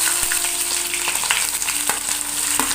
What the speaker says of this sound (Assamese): পিয়াজখিনি ভাজিব লাগিব পিয়াজখিনি গোল্ডেন ব্ৰাউন নোহোৱালৈকে ভাজিব লাগিব